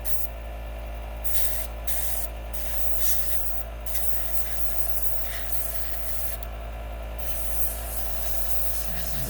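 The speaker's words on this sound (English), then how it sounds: "Opened up the airbrush to let more through." A Gaahleri Ghad 39 airbrush spraying light-colored paint gives a soft, continuous airy hiss, fairly quiet and steady, broken by a few brief pauses in the spray.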